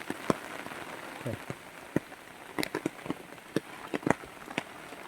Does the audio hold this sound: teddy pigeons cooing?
no